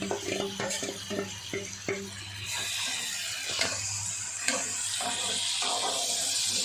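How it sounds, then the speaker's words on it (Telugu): A pan of cucumber and peanut curry is stirred back and forth, with scraping spoon clatter and a low steady sizzle throughout, close and fairly quiet, with no one speaking. "అడుగు అంటుకోకుండా చక్కగా ఈ విధంగా అటు ఇటు తిప్పుకోవాలి"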